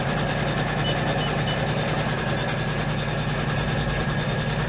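An embroidery machine stitching out the last colour of a fold-over top bag, giving a steady, dense mechanical whirring hum that runs unbroken throughout at an even level.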